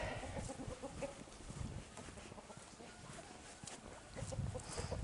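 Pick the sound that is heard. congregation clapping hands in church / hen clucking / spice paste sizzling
hen clucking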